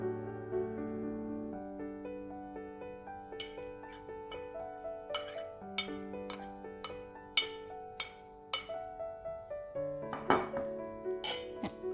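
Utensil clinks and taps against a bowl while crushed coconut, mustard seeds and chili powder are mixed for a raw mango side dish, a steady run of sharp metallic knocks, close and alone with a soft musical tone underneath.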